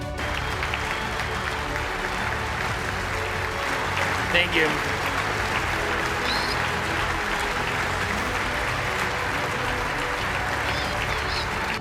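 Members of the US Congress give a sustained standing ovation, a broad, continuous roar of clapping from a large chamber crowd, with a brief spoken word near the start.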